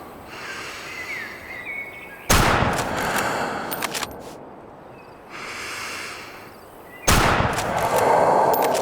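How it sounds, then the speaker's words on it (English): Rifle shots in a night hunting video game, two sharp loud broadband blasts a few seconds apart, each followed by a lingering rolling echo over a quiet outdoor ambience. "First shot was low, possibly a complete miss."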